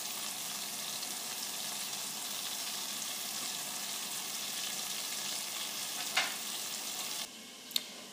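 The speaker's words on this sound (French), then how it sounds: "je commence par faire fondre le beurre et je vais faire dorer mes pommes avec un peu de sucre en poudre" Apples browning in melted butter with a little caster sugar in a pan, a steady close sizzle and frying hiss throughout, with a brief utensil clink near the end.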